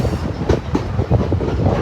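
A Niles Canyon Railway train rolling along the tracks through the canyon, with steady rumbling and rhythmic clickety-clack of wheels over rail joints heard from inside a car.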